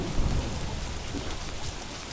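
Rain and thunder in the video game Don't Starve, a steady dense hiss of rainfall with a low rumble underneath, continuous and fairly loud for the whole stretch.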